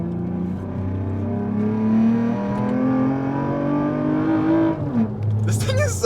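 A lowered Lexus ES 350 on air suspension, with a Camry-derived engine, accelerates hard from inside the cabin: a steady engine drone rising in pitch for about five seconds, then a brief shift dip, with people talking over it.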